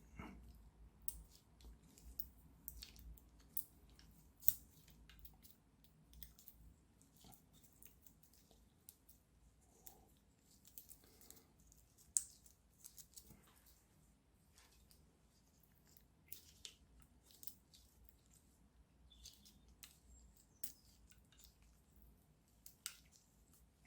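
Sticky foil cover being slowly peeled off a dead AA battery, close and quiet, with scattered faint crackles, tiny ticks and soft tearing sounds over a low background hum.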